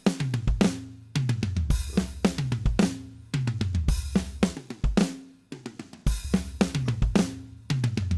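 Programmed MIDI drum track playing back in a recording class, a steady groove of punchy kicks, snare hits and cymbal crashes repeating in tight patterns, loud and close with no talk.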